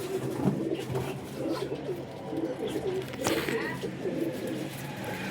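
Flock of flying pigeons kept on a rooftop loft, cooing in soft low murmurs throughout alongside bird fluttering and background voices.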